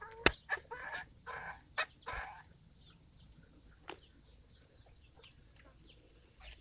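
A backyard flock of chickens squabbles, with a burst of close clucks and squawks and a flutter of wings early on, then fades to scattered fainter calls over quiet ambience.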